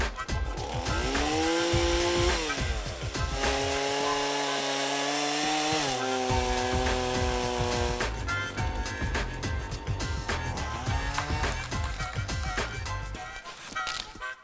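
A tree cutter's chainsaw slicing through trees by a lakeside, loud and close, revving in long sustained whines that dip and rise as the blade bites, with woody cracking between cuts.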